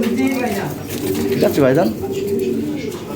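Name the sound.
European Lahori Sirazi pigeons cooing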